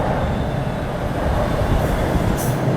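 A train car wrapped in an advertisement rolls past, a steady loud rumble of wheels and carriage noise with faint squeal near the end, no talk.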